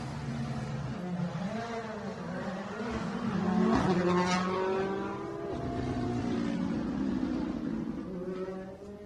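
Rally cars revving and pulling away at the start of a stage at the 2023 Adelaide Hills Rally, engine notes rising and falling with gear changes, loud and fairly close, mixed with faint crowd noise.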